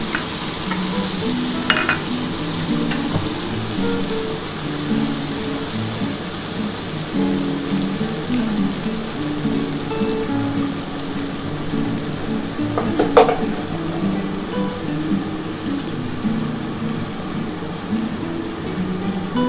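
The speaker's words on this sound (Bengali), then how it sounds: "এবারে এই তেলের মধ্যে এই যে দেখো মশলাটা যে বেটে রেখেছি, মশলাটা দিয়ে দিচ্ছি। এর মধ্যে সামান্য অল্প একটু জল দিয়ে দেবো।" Ground spice paste sizzles and fries steadily in hot oil with a little water, for a restaurant-style pomfret fish curry, with occasional scraping stirs and spatters throughout, close and continuous.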